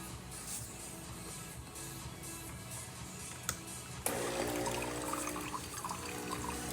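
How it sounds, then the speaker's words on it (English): Water flows steadily from the spouts of a Saeco espresso machine under repair for not building pressure, a continuous hissing stream that swells suddenly louder and fuller partway through. "nice steady stream coming out through the spouts"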